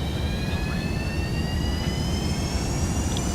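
Jet engines at full power in a flight simulator game, a steady broadband roar with a faint rising whine, continuous and even with no talk.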